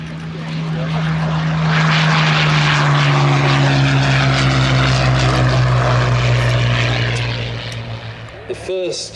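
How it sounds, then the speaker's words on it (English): A Hawker Hurricane, a single-engine propeller monoplane fighter, drones loudly overhead, its steady engine hum swelling and holding for several seconds before fading near the end. "The first monoplane single-engine fighter to enter service in the RAF."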